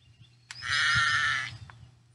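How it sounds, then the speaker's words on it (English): A sheep or lamb gives a single clear, drawn-out bleat lasting about a second, close and fairly loud against a quiet background hum. "Baa like a sheep or a lamb."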